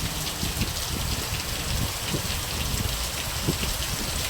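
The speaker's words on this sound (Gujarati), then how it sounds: "વરસાદની ખાસ જરૂર હતી તો આવી ગયો વરસાદ." Steady rain pouring onto a groundnut field in a village, a dense even hiss of drops striking plants and wet soil, with scattered closer splats and no voices.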